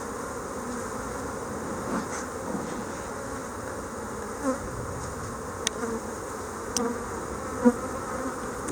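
Honey bees drone in a steady, dense hum close by during an open hive inspection while frames of comb are handled, with faint clicks and knocks now and then.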